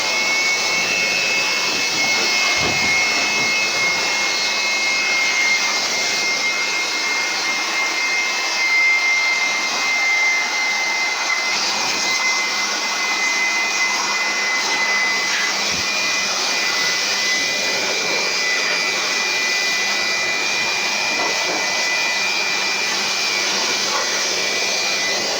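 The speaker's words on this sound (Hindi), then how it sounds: "अब ब्लोअर यूज़ होने लगा है और उसकी आवाज़ सुन सकते हैं।" An air blower cleans a car engine bay, giving a loud, continuous high-pitched rushing whoosh that holds steady and close for the whole stretch, with no talking over it.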